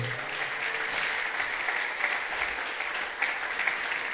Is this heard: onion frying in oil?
no